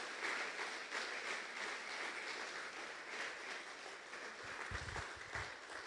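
A church congregation applauds in praise during a sermon, a steady, soft wash of many hands clapping together, distant and even throughout with no talking over it.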